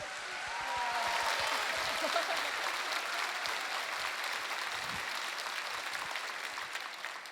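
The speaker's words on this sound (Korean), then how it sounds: "생각지도 않은 박수 소리가 나가지고 저희들이 눈을 뜰 것 같습니다" Church congregation applauds during a Sunday worship service, a dense steady wash of many hands clapping that swells early and holds, fairly faint and distant, with a brief voice at the start.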